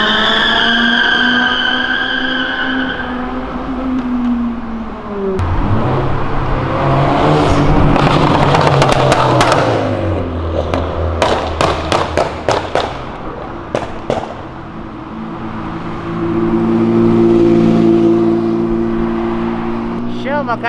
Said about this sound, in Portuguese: A BMW chamou a McLaren por racha, velho.